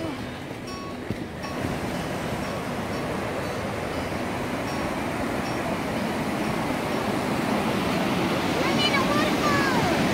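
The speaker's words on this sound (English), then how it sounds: "We're going to see a good big waterfall." Roar of Tarongo Falls, a big waterfall, rushing as a steady broadband wash that stays loud and close throughout, with a brief quieter moment near the start and faint voices beneath.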